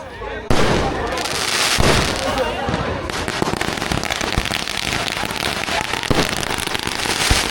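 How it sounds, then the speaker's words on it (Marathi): Fireworks bursting at a Shimga festival in Ade Koliwada, a dense, continuous crackle of firecrackers and pops running loud and steady throughout, with no clear break. "आणि फटाक्यांची आधीची बाजी बघायला भेटते आहे"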